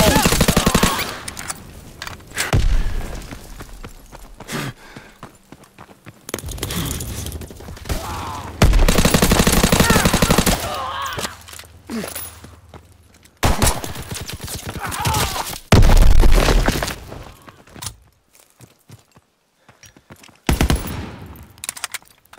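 Gunfire in a WWII shooter game, with bursts of rapid machine-gun fire and single shots coming in loud clusters separated by quieter gaps, plus occasional thumps and mechanical clicks.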